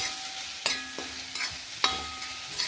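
Onions and masala paste fry in a pan, with a steady close sizzle broken by a few sharp metallic scrapes and clinks from stirring at irregular intervals.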